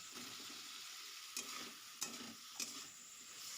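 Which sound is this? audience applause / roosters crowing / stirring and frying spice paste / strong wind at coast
stirring and frying spice paste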